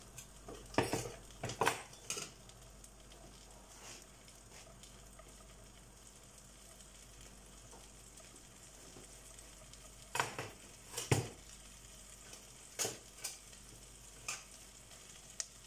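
Butter and flour roux cooking gently in a pan gives a low steady sizzle, broken by a few sharp clicks and scrapes of a utensil against the pan, some in quick clusters, with no talk.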